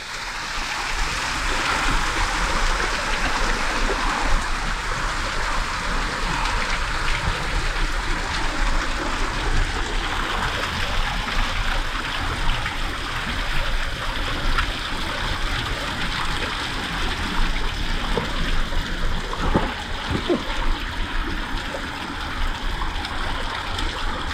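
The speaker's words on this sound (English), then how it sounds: "Walking through these waterfalls that are coming down." Spring waterfalls in Yosemite roar close by, a loud, steady broadband rush of falling and splashing water that stays constant throughout with no pauses.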